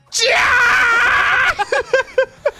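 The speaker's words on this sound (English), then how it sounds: "Did you hear that scream?" A long, piercing scream rises sharply and holds for over a second, then breaks into several short, choppy vocal bursts like gasping or sobbing cries.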